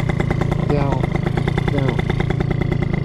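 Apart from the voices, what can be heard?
Italjet two-stroke scooter engine started with electric starter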